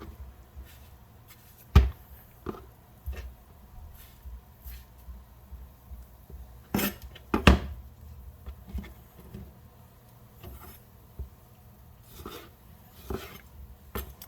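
A knife cores tomatoes and cuts them into sixths on a board for tom yum goong soup, giving sparse soft taps and knocks with a couple of sharper thuds, close and fairly quiet, with no speech.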